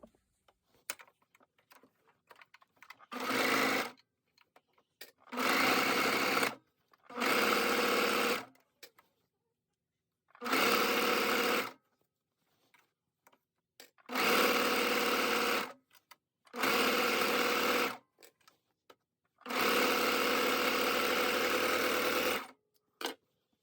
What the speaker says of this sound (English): So now we're going to serge the new piece in.